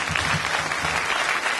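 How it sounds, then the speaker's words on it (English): A comedy club crowd applauds a comedian being introduced at an open-mic comedy night, with brisk, steady clapping that stays at full volume throughout the short burst. "Round of applause for Matt Posky."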